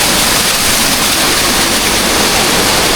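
The Gua Tetes waterfall roars in a dense, unbroken rush of white noise, loud and close, with no voices.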